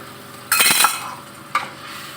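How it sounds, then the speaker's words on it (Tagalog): Potatoes and carrots tipped into a hot pan for tuna stew: a sudden burst of loud sizzling as the vegetables land, easing off, then a second short sizzle and clatter from stirring. "Ilagay na ang potato at carrots."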